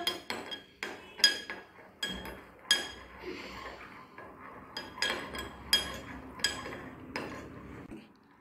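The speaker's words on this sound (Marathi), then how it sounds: "आता मी चमचा ढवळतो" A metal spoon stirs and clinks against a bowl holding a liquid seasoned with salt and asafoetida, a series of bright irregular taps and chinks over a soft swirling wash.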